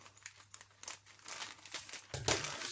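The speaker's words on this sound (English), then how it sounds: "Let's rip the bag open." Someone rips open a plastic bag of 1/72 Airfix Nimrod model kit parts up close, with crinkling, crackly tugs and a sharper final tear.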